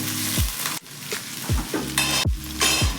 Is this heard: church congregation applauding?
no